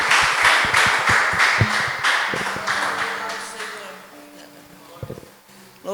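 A church congregation claps hands in praise during a worship service, a burst of steady rhythmic clapping that fades out, leaving faint tones, a few taps and a low voice.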